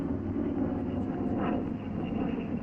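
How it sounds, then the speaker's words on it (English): A 1943 P-47 Thunderbolt fighter gliding in to land with the throttle back, its engine a steady, loud low drone that holds unbroken throughout with no voices. "You're coming in for a normal 3-point landing."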